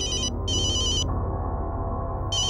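A telephone rings loudly in repeated electronic trill bursts separated by short gaps, close by over a steady low hum.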